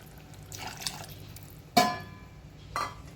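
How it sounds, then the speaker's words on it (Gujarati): Water is poured into a curd and papad curry cooking in a pan: a short splashing pour, then a second, briefer splash a moment later, close by and moderately loud. "હવે પાણી એડ કરીશું થોડું"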